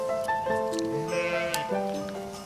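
Sheep bleating close by on a farm, several overlapping wavering calls, one after another, with faint background noise.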